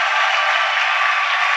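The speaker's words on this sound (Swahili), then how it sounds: "Tumpikie Bwana makofi." A church congregation claps together in praise of Jesus. The applause is dense, steady and continuous, and it fills the whole short moment with no voices over it.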